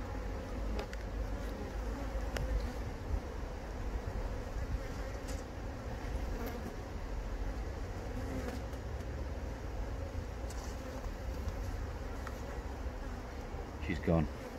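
Honeybees in an open hive on a sunny day in Devon, giving a dense, continuous droning buzz close to the listener.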